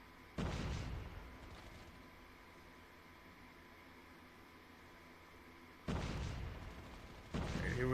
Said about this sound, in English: Here we go with the grenade tosses